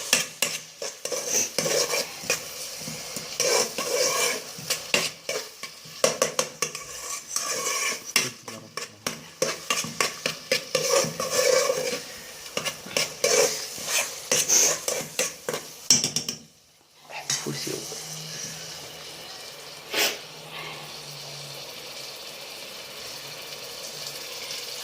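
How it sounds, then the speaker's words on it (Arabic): Onions and other ingredients stirred in sauce in a pan for an olive tajine, a long run of rhythmic spoon-against-pan scraping and clinks over a low background sizzle, pausing briefly near the end before a softer frying hiss. "دوك نلحوهم في لاصوص حتى يتقلى البصل تاعنا."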